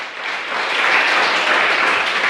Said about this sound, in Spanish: Denle un fuerte aplauso a nuestro Redentor.